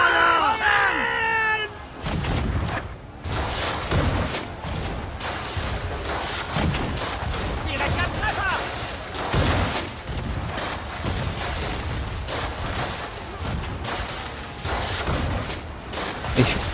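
Ship cannons in the video game Assassin's Creed III fire in a rapid volley of heavy booms, one after another for several seconds, with shouting crew voices near the start and battle noise throughout.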